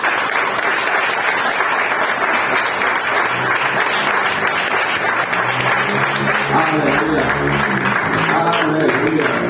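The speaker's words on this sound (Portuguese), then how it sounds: "Vamos começar, meus irmãos, com uma belíssima salva de palmas para Jesus." A church congregation applauding for Jesus, loud continuous clapping throughout with voices and some music mixed in beneath the dense, steady claps.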